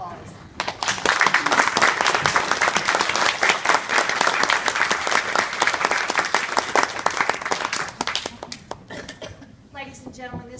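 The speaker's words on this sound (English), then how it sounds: "Will the audience please rise and give Eagle Scout Derek McDermott a round of applause?" A standing audience gives a long, steady round of applause at an Eagle Scout ceremony, dense clapping for about eight seconds before it thins out and a voice begins speaking.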